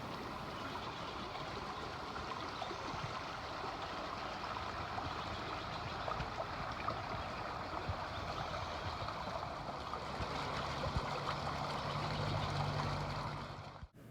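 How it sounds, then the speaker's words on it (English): A park creek in West Corvallis rushes steadily and continuously, a close, even wash of flowing water with no voices. "enjoy the beautiful sounds of the water flowing by"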